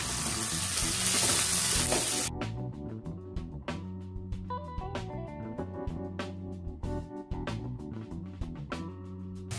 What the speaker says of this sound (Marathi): हिरवी मिरची आणि शेंगदाणे आता हे मीडियम गॅसवरती आपण परतून घेऊया